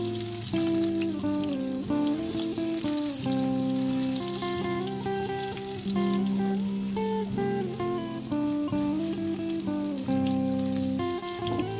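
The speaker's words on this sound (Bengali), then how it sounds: "এবার আলুগুলো আমি ভেজে নিচ্ছি, আলুগুলো আমি হালকা ব্রাউন করে ভেজে নিচ্ছি" Potatoes frying in mustard oil until lightly browned, a steady sizzle running under prominent melodic background music for the whole stretch.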